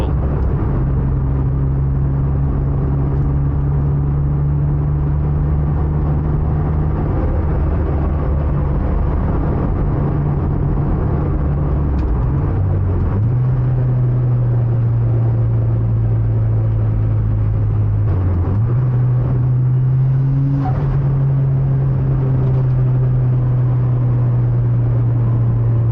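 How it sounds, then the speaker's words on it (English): A Mitsubishi Evolution V climbs a mountain touge road, its engine droning loud and close with a steady rumble, pitch rising through the revs and dipping briefly at gear changes. "First time this season that I drive through here with the Evo"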